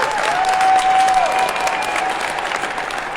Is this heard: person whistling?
no